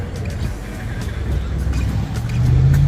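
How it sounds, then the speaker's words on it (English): A McLaren 720S sports car rolls past at a car meet, its engine hum swelling and growing louder toward the end over a murmur of background crowd noise. "Another McLaren."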